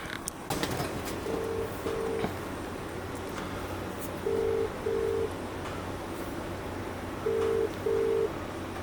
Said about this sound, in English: I'll call my mate, he owns a body shop. I'll call him first.